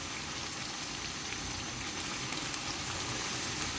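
Eggplant and potatoes frying in a pan of hot oil, a dense steady sizzle and crackle at a fairly soft level, with no other sounds.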